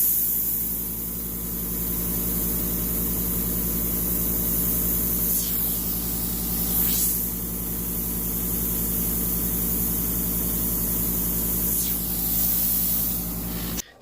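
Steady rush of air blowing out onto a tumbler to make a blowout paint effect, a continuous loud hiss with a low engine-like hum beneath it, running alone for the whole stretch before cutting off at the end.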